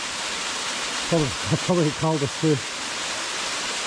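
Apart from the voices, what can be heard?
waterfall rushing into a pool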